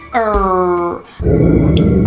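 A voice imitates a growling dog with a sustained, buzzy, nasal growl lasting about a second, then a rougher, noisier rasp follows after a short pause, close and loud.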